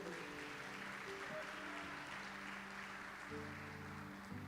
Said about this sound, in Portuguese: Aplaude ele aí, aleluia.